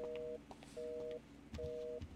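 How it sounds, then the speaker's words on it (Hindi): Phone call tone in GTA 5 repeats three times as paired electronic beeps with short gaps, faint under low background noise. "फोन उठा ले अशरफ"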